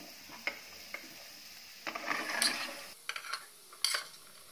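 A spoon scrapes and clinks against metal and a bowl while dry potato and pea sabzi is moved out of the pan, a few sharp taps amid soft rustling, with no talking.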